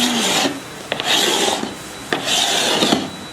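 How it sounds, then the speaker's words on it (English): A scraper drags repeatedly across softened varnish on a dried-out wooden window casing, giving rough rasping strokes in a steady back-and-forth rhythm, close and fairly loud, with a few brief knocks between strokes. "I'm probably scraping a lot more vigorously than I did on the side."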